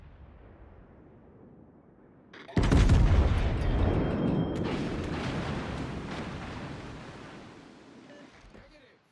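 Battleship main guns booming in World of Warships, a sudden heavy blast followed by a long rolling rumble of shells in flight that slowly fades, with someone talking over it.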